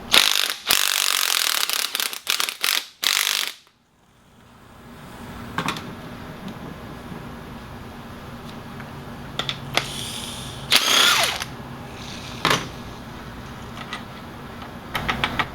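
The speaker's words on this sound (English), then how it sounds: "We're going to take an electric impact with a 14mm Allen socket on there, and we're just going to unscrew it." Electric impact wrench with a 14mm Allen socket unscrewing a motorcycle fork bolt during a fork seal change: several loud, rapid rattling bursts up close, then a quiet steady hum with occasional clicks.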